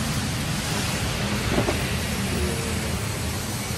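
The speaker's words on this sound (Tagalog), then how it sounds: "Sobrang ulan po ngayon dito." Heavy rain roaring steadily, a loud, dense wash of noise with a low rumble underneath, continuous from start to finish.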